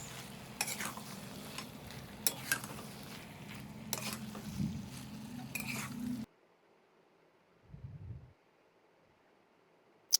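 Potatoes being stirred and fried in a pan for an aloo matar paneer curry: soft sizzling with scraping spoon strokes for about six seconds, then near silence broken by a brief low thump.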